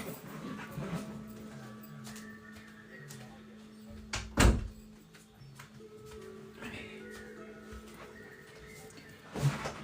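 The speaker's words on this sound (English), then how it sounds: "let me shut that door" An indoor door is pushed shut with a single solid thunk about midway, then a second softer knock near the end, over a low steady room hum.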